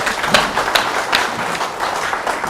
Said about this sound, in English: Please join me in quickly thanking Phil.